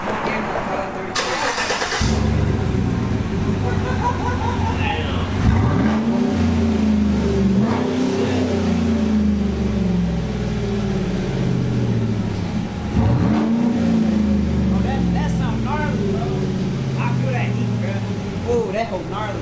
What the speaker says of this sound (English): we're gonna push the gas though, so you can hear it